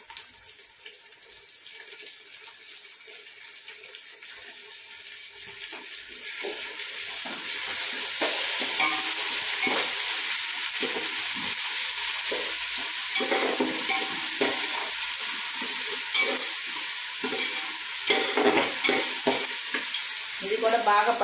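Ginger garlic paste fries in a pan, a soft sizzle that swells louder partway through and holds steady, with scraping stirs and faint watery hiss, no talking.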